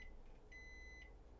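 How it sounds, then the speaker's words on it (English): A microwave oven beeps when the oatmeal is done. Faint high tones sound in a quiet room: two short blips, then one long steady beep of about half a second. "There is oatmeal, and that's the beeping of that."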